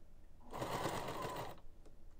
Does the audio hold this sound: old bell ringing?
no